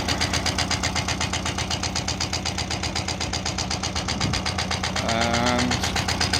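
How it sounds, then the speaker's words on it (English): A tractor engine idles steadily throughout with an even, rhythmic low thrum, joined near the end by a brief higher whine and some faint background sound. "So here's the tractor."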